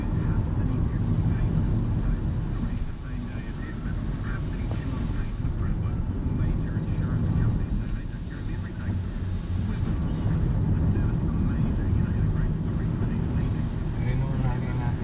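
Strong wind of about 150 km/h blowing in Wellington, New Zealand, roars in a constant, loud, buffeting rush across the whole stretch, pressing hard against the microphone, with no talk heard.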